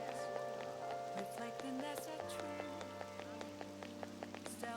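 Steady pattering rain in the video game Persona 5 Royal, a soft continuous patter running under sustained background music with scattered sharp ticks.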